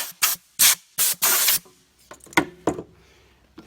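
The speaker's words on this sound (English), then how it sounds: "We're going to blow it off with our Super Duper Telescooper Super Duper air nozzle." A telescoping compressed-air nozzle blasts a car tail light clean in several loud, short hissing bursts, close by. Some fainter clicks and handling noises follow, and nobody speaks.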